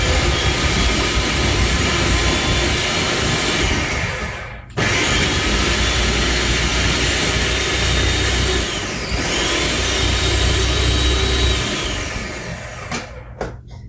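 A food processor pulses garlic and broccoli for black bean burgers, giving a loud, close, continuous whirring chop. It is broken by brief pauses into a few pulses, and the final burst trails off. No voices.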